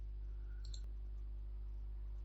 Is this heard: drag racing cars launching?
no